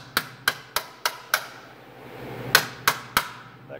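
A hammer strikes a bushing to drive it down into a piece of tubing, five sharp metallic blows at a steady beat, a brief pause, then three more, close and ringing slightly, with no talking.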